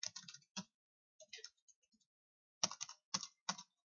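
Bursts of crisp computer-keyboard keystrokes, close and quiet, in short clusters separated by pauses, with no voices.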